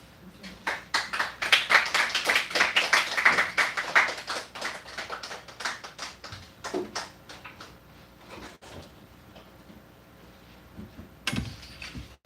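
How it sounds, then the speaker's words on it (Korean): A church congregation claps to welcome a visiting pastor and his wife, a dense burst of applause that is loudest early on and thins into scattered claps before a few final ones. "여러분 이렇게 나오실 때 큰 박수로 환영해 주셨으면 감사하겠습니다"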